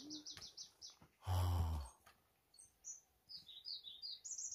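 Small birds chirping in short repeated bursts on Sobaeksan mountain along the Huibangsa trail, with a brief louder rumbling noise cutting in partway through.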